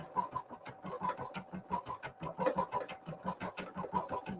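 A Brother PE900 embroidery machine stitches a design onto a shirt, producing a fast, even mechanical clatter of needle strokes, close and fairly quiet, with no talking.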